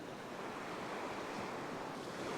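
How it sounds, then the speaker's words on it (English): Steady ocean surf on a beach during a small half-metre swell, with a southwesterly wind: a continuous, moderately faint wash of breaking waves and wind noise, with no talking. "There's the occasional bigger waves, and it's a southwesterly wind."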